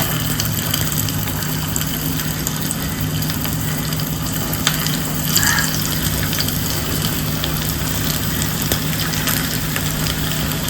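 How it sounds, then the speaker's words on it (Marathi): Garlic hits hot oil in a pan for a Dahanu-style dal and brinjal dish, giving a loud, continuous sizzle that runs steadily with no talking. "आणि तेल तापल्यावरती तेल तापल्यावर आपण लसूण घालूया"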